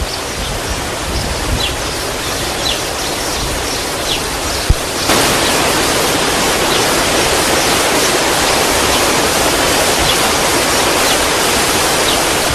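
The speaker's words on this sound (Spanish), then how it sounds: "Pocos jardines del mundo cuentan con su propia cascada." A garden waterfall in the grounds of a Galician pazo, fed by the river crossing the estate, roars as a dense, continuous rush of falling water. It grows noticeably louder and fuller partway through, with no voices.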